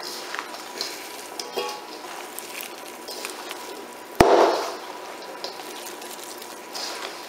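Hands squelch and stir wet turkey dressing in a bowl, soft slippery sloshing with occasional louder splats and a sharp knock partway through.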